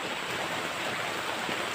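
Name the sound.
river water flowing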